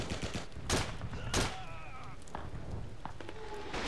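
M1 carbine and BAR fire in Call of Duty 2 on Crucifix Hill. Two loud shots punch out over a continuous battlefield din, with scattered quieter pops and distant combat noise.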